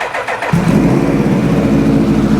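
A 2000 Suzuki Hayabusa motorcycle, running rough on two dead cylinders, cranks briefly with a few whirring turns and then fires into a loud, steady idle close by.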